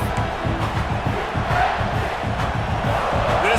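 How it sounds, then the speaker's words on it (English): Roaring stadium crowd in the College Football 26 video game, a Kentucky Wildcats dynasty season, holding a steady loud cheer throughout with dense rhythmic crowd noise and shouting, no clear talk. "This crowd knows they have to bring it in big moments"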